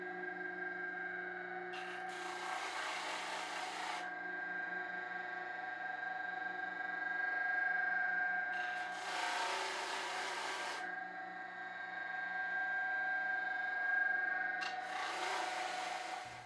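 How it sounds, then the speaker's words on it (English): A disc sander roughly sanding an antique wooden tool box, a steady motor hum with three long, loud grinding passes as the wood is pressed against the disc, alone without talk. "Now I'll do some rough sanding on my disc sander"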